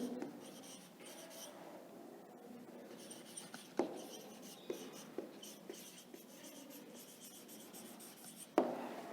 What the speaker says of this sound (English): And here I am writing linguistic groups.